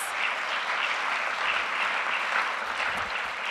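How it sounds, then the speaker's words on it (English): Sustained applause from an audience at a DC Public Schools education reform celebration event, a steady dense wash of clapping filling the whole stretch at even loudness with no talk over it. "Let's give her a big round of applause."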